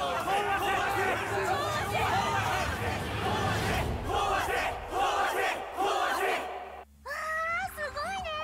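Large crowd chanting 'destroy' in the Danganronpa game, loud massed shouting and rhythmic battle cries over a hubbub of voices, breaking off briefly before rising again near the end.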